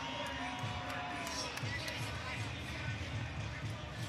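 A packed Madison Square Garden crowd at a boxing event keeps up a steady, dense roar with a thudding rhythmic beat underneath, while a commentator talks over it.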